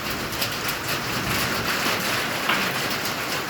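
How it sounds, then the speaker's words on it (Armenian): Large hailstones pound down in a dense, continuous clatter on the ground and surfaces, steady and loud throughout with no voices. "ինչ խոշոր կարկուտ է"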